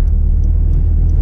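A Lada Granta built as a sleeper with about 200 horsepower runs its engine close by, producing a loud, steady, deep rumble with a throbbing pulse and no speech over it.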